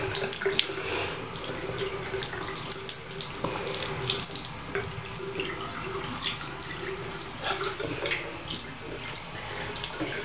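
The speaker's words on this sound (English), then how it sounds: "Wash the other hand." Tap water runs steadily into a sink during handwashing, a continuous close splashing stream with small drips and clinks over it, no talking.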